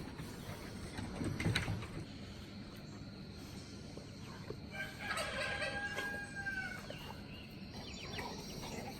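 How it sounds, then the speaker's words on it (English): Meat chickens cluck and squawk outdoors on a homestead in a steady, busy chorus, with a few louder calls standing out over the low, constant background noise. "this is some of our little meat chickens"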